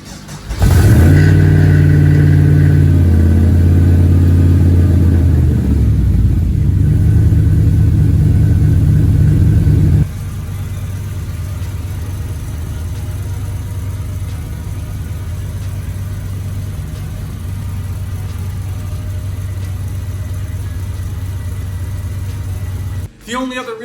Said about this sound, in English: let's fire this thing up and see how they look